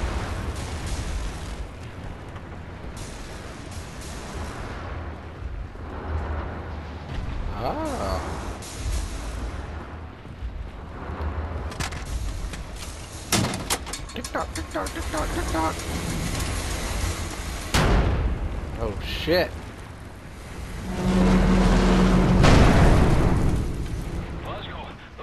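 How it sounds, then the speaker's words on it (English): Heavy booming cannon blasts and rumbling explosions from a battle in the game Wolfenstein: The New Order, repeated over a continuous roar, with a person briefly exclaiming. "We have people in the air and those cannons are blasting."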